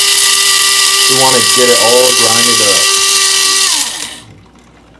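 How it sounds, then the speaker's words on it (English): Electric coffee grinder grinding coffee at home, a loud, close, steady high whirring drone that winds down and stops near the end, with someone talking over it. "Look at me grinding coffee"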